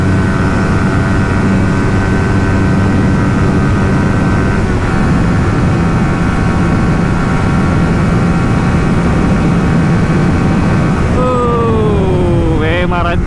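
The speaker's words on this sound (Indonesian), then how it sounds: "Apa boleh tarik sampai RPM tinggi." A Suzuki GSX-R150 motorcycle engine runs loud and steady through a test ride, then climbs sharply in pitch as it is revved toward high RPM near the end, with people talking over it.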